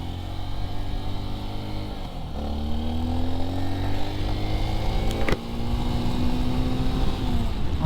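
A Honda XR150L motorcycle is ridden on a cold, icy road, its single-cylinder engine loud and close, rising in pitch as it revs through gears, with a brief click midway and no voices.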